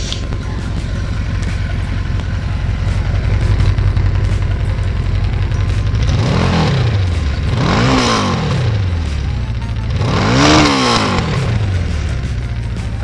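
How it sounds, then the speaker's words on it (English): A 1982 Suzuki GS 1100 motorcycle engine idles steadily, then revs up three times in rising and falling surges, loud and close, with no voices. "So that's it for Suzuki GS 1100, and it's a very smooth bike, and the engine is very powerful"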